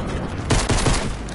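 Video game gunfire: a short, loud burst of rapid shots lasting about half a second, heard with no talking.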